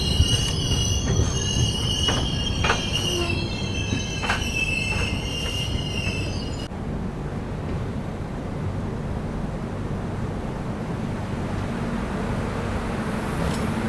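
The Pune–Hyderabad Shatabdi Express rolling into Tandur station in Telangana, with steady wheel rumble and high, sustained squealing of train wheels on the rails that cuts off partway, leaving continuous rolling noise.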